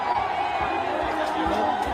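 Crowd at a Jantar Mantar protest celebrating together, a dense, steady wash of many voices cheering and chattering at close range, with scattered shouts and whoops rising over the continuous roar.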